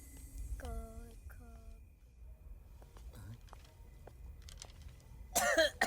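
A person in a comedy film coughs in a short burst near the start, with speech-like voiced sounds, light background noise and a sharper clatter near the end.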